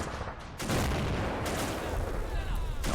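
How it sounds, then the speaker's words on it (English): Dense, continuous battlefield roar from Men of War: Assault Squad 2, with mortar fire and overlapping gunfire booming close and loud through the whole stretch, no pauses between blasts. "Now we got mortars firing."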